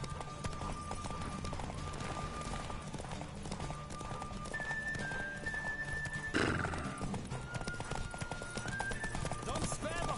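Horse hooves clip-clop in a fast, continuous gallop during a horse race in The Witcher video game, with occasional whinnies over game music and voices.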